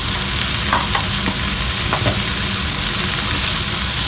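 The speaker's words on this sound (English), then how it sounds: "as that's cooking, I'm going to add kind of a teaspoon and a half of minced garlic" Minced garlic sautéing in a pan for a homemade mushroom sauce, a loud continuous sizzle with occasional scraping strokes of a utensil, close and steady with no voices.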